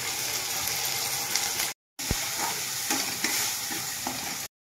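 Cumin seeds and bay leaf fry in hot mustard oil in a pan, a steady close sizzle with scraping stirs, briefly interrupted twice.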